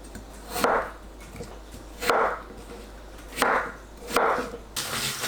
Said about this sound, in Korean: 감자 4등분하고 한입 크기로 썰어주세요.